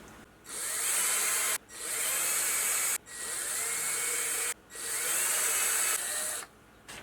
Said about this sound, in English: Now there's a couple of holes I need to drill out.